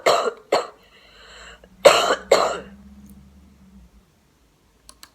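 Several sharp dry coughs from a woman in a played recording, two quick bursts, a pause, then two more close together, followed by a faint low hum and a couple of tiny clicks near the end.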